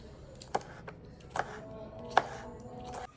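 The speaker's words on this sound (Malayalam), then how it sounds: "ഇനി നമുക്കിത് ചെറിയ പീസാക്കി അരിയണം" A knife chops pineapple into small pieces for pineapple pudding, giving a few sharp, fairly close knocks spaced irregularly over a low background hum.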